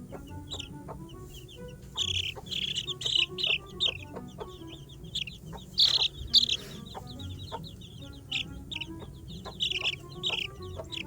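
Baby chicks chirp in shrill, rapid peeps, bursts clustering every second or so over a soft low background, close and fairly clear.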